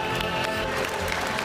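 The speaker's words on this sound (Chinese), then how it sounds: "让我们把最热烈的掌声送给他们。" Thick, close applause fills a large gala audience at a televised anniversary celebration, dense clapping sustained throughout.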